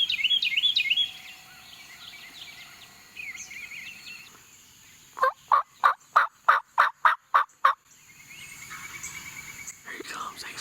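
A wild turkey gobbles during an Alabama turkey hunt, a rapid burst of about eight loud, evenly spaced gobbles after soft bird calls and a quiet whisper.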